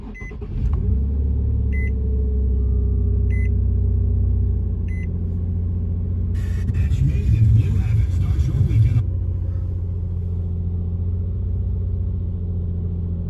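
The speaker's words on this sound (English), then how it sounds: "I'm going to do a cold start." A 2008 Infiniti G35 engine cold-starting, with a brief crank and then a steady, loud low idle rumble. Chimes beep a few times early on, and a rougher rise in engine noise comes midway.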